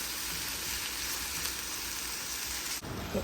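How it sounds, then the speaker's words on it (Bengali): Spices sauté in oil with a faint, even sizzle like light rain, steady throughout and fairly quiet. "হলুদ গুঁড়ো, লঙ্কা গুঁড়ো, ধনে গুঁড়ো, ভাজা মশলা সব একসাথে কষানো হবে।"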